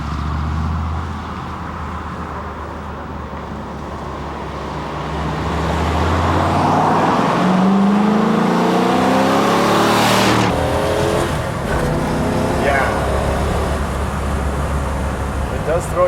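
A 1962 Chevrolet Bel Air with a 409 V8 runs loud and close, its engine note swelling as it revs up around the middle, with outdoor traffic-like background throughout.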